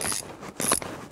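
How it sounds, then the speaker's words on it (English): A puller grinding and clicking in short mechanical bursts as it draws the front crankshaft seal race off an older Mercedes engine, heard up close with no talking. "Hold on to the puller with your left hand to keep it from popping off. But here comes the race."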